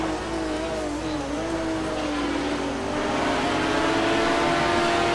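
GT1 race cars run a qualifying race at Road America, engines droning steadily under continuous commentary, with pitch rising and falling as cars accelerate.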